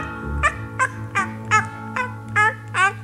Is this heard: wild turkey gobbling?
yes